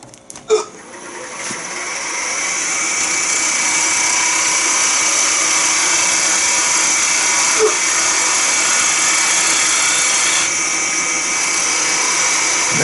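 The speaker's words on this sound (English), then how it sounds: "That's doing a skew scrape" A George Hatfield rod scraper held at a skew against work spinning on a lathe gives a steady, loud, continuous whirring scrape after a couple of brief knocks at the start.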